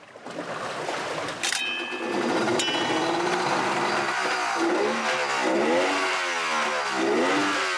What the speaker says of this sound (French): Le moteur a respiré de l'eau.